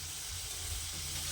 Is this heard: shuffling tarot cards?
no